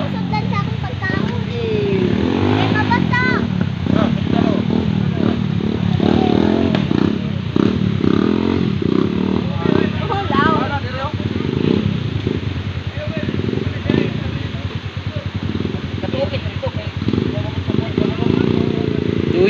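Motorcycle engine running with uneven revving, a rough close mechanical drone with clatter, heard under ongoing loud talk from several people outdoors.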